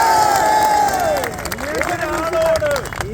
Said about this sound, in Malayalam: കൈയടിച്ച് പാസ്സാക്കി തരാം.